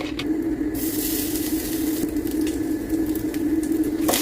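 One and a half cups of grated coconut fry in hot ghee with a continuous close sizzle and crackle, brief brighter bursts of spitting rising over the steady hiss; no one speaks.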